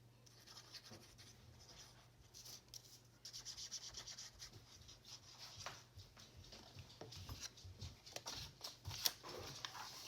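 Scissors trimming paper for a junk journal, giving faint, close snips and rustling paper rubs scattered over a quiet steady hum, no talking.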